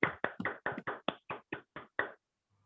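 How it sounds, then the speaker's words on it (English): Applause at a meeting for a best speech evaluator award: about ten sharp, close claps in a quick, even rhythm from just a hand or two, then silence. "Round of applause."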